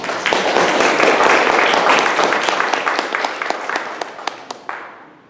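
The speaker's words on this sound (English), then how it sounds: "a round of applause for Tom." Audience applause at a community meeting, a burst of many hands clapping that swells briefly, then thins into scattered individual claps and fades out.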